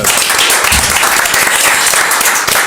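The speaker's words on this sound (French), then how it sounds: "On peut l'applaudir, applaudissez-la." Loud, dense audience applause fills the whole stretch, steady clapping from many hands with no pauses.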